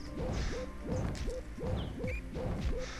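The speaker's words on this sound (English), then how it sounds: "forgive me for picking magic missiles. I forgot that they make kind of an annoying sound, so that's what you're going to be hearing" Magic missile spells fire repeatedly in the video game Runers, a regular series of whooshing, hooting synthetic blasts with thwacking impacts, roughly two per second, steady and loud, with no talk.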